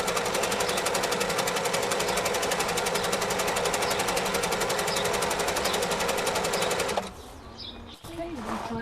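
Vintage Singer sewing machine, a 413 or 476 model, running at speed with a fast, even mechanical chatter for about seven seconds before stopping, followed by a few quiet handling clicks.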